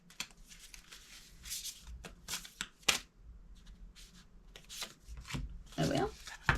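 Tarot cards drawn one by one from a deck: light papery slides and flicks in short bursts, close and quiet, mixed with a soft voice talking between the card sounds.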